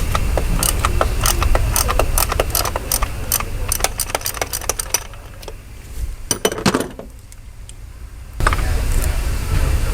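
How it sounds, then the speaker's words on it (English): Quick metallic clicks from a 3/8 ratchet loosening the oil pressure sending unit on a 3.6 V6 Chrysler 300, Dodge Charger or Challenger, a close burst of ratcheting followed by scattered taps and clinks. "All I got to do is get my 3/8 ratchet on here."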